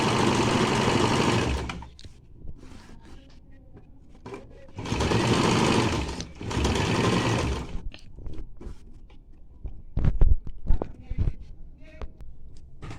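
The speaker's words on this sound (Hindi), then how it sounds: "इनमें से एक लाइन पे मैं सिलाई चला दूंगी" A sewing machine stitches a Bombay-cut blouse in three loud, close runs of rapid mechanical whirring separated by pauses, with scattered handling clicks and a voice nearby in the gaps.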